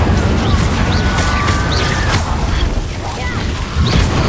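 Spell blasts in the Hogwarts Legacy video game, including the Confringo fire spell: loud booming bursts and crackling impacts over a continuous rumble, with a voice speaking.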